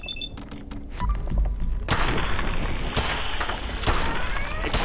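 Gunfire in the video game Fallout 4, set in the Glowing Sea: a dense, loud barrage of thudding shots and booms, preceded by a few softer thumps.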